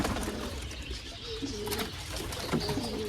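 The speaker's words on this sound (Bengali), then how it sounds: "দেখছেন কত সুন্দর কবুতর" Pigeons in a coop with nesting eggs and young give soft, low cooing calls, a few rolling coos over a faint, steady background, heard alone without talk.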